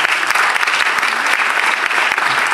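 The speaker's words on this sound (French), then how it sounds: "On peut applaudir déjà." An audience applauds at an evening commemoration concert in Belgium. The clapping is dense and steady from start to finish, loud and close, with no voices over it.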